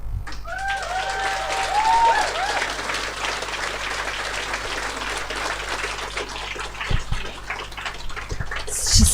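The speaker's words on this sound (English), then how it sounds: "Just getting clapped for doing very little is very exciting for me." Audience at an awards ceremony applauds steadily for several seconds, a dense wash of many hands clapping at moderate distance, while a voice speaks briefly over it near the start.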